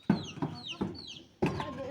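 Chickens clucking inside a village chicken coop, four short, close clucking calls in quick uneven succession with a brief gap before the last.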